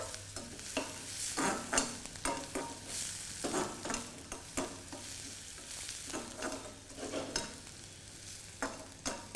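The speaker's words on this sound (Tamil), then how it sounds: "வெங்காயம் நல்லா வதக்கணும்." Diced onions and green chillies sauté in a hot pan for a Chettinad potato and green peas fry, with a steady sizzle under repeated scraping stirs of a spoon against the pan.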